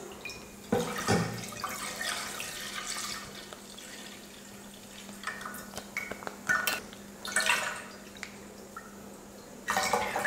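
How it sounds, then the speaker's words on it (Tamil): Milk pours into a pan for making payasam, a faint splashing liquid stream with soft clattering knocks of the container, rising and falling in short bursts around the kitchen. "பாயசத்துக்கு பால் ஊற்றிக்கலாம்."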